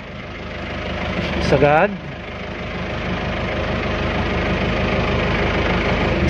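A Toyota Hi-Ace engine idles steadily while the steering is turned lock to lock, with a brief rising whine-like sweep near the start over the constant low hum; someone speaks briefly.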